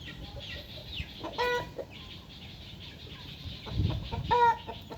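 A year-old fighting rooster clucking, with a few short, moderately close clucks and calls spaced across a quiet background.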